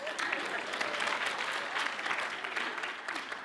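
An audience in a talk on hospitality breaks into sustained, dense clapping, steady and fairly loud throughout with no speech over it.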